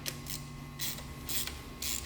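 A ratchet and socket tighten down a rebuilt carburetor, giving close bursts of quick clicking in four short strokes, with a faint steady hum underneath.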